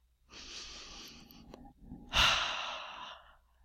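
A single deep breath, a slow airy inhale followed by a longer, louder exhale like a sigh, close and alone.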